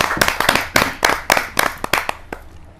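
A small gathering at a kavi sammelan poetry event claps in a sparse, uneven patter, individual hand claps distinct and close, tapering off within a few seconds.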